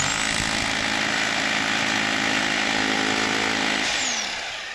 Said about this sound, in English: I just want to drill here, see what if it's any resistance or if it falls.